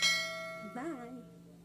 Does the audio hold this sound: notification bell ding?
yes